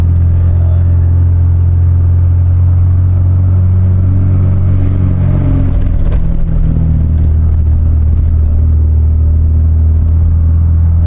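A car climbs a rough mountain road near Tangkuban Perahu, Lembang, held in a low gear, its engine a loud, steady low rumble throughout with faint rattling and bumps from the uneven track.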